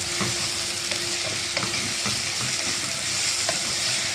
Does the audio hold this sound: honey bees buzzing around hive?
no